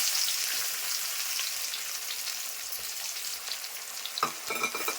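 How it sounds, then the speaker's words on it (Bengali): Onions and nigella seeds fry in hot oil with a steady, loud sizzle that holds throughout, with a brief stir or clatter near the end. "এখন দিচ্ছি পেঁয়াজ, ফোড়ন দিচ্ছি।"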